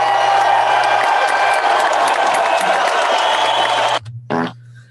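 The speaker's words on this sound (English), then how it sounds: "So give yourselves a round of applause." An audience at a bar show applauds and cheers in a dense, loud burst for about four seconds, then stops abruptly, with a brief grunt-like sound after.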